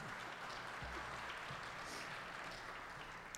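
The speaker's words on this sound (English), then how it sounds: "You can clap if you want." Faint applause from an audience at a water-industry EPA session, a soft steady patter of many hands clapping throughout, heard from a distance in a large room.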